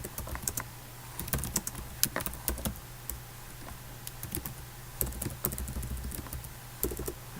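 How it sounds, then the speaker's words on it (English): Computer keyboard typing, a quick irregular run of close clicky keystrokes in bursts and pauses, fairly quiet and with no talking. "I'm not used to this keyboard, my apology."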